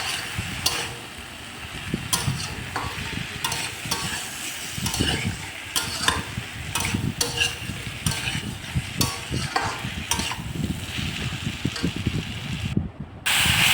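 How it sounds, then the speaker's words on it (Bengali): Mixed vegetables sautéed in a pan with turmeric, salt, sugar and spices, a continuous loud sizzle broken by frequent spatula scrapes and stirring clatter throughout. "হলুদ, লবণ আর চিনি দিয়ে ভালো করে এটাকে একটু কষিয়ে নেব মশলার সঙ্গে"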